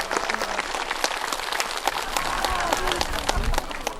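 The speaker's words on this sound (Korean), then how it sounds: "박수 한번 쳐주세요." An audience at a Dano festival contest marking a temple's founding day claps in sustained applause, dense and fairly distant, with scattered sharper claps standing out.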